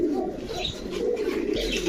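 Giribaz pigeons coo softly at a busy pigeon market, low rolling calls repeating under steady crowd murmur and background bustle.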